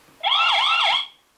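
The tamper alarm of an XTU J7 Plus battery video doorbell sounds one loud, close electronic siren burst about a second long, warbling up and down before it stops abruptly.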